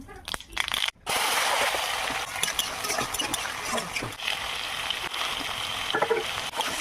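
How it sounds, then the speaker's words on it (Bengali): Pumpkin pieces frying in hot oil with mustard seeds and dried red chilli for a vegetarian lunch thali, a steady close sizzle with scattered crackles and stirring scrapes that runs continuously after a brief pause near the start. "সরষে আর শুকনো লঙ্কা দিয়ে অল্প কুমড়ো ভেজে নেব।"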